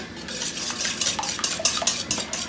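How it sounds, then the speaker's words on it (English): Eggs for a Portobello Gruyere quiche whisked in a bowl, a close, quick rhythmic clatter of the whisk hitting the sides in repeated strokes. "I'm whisking the eggs first"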